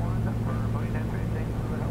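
A Piper Comanche 250 in flight, its engine giving a steady low drone with a strong hum throughout, while a voice talks over the cabin noise.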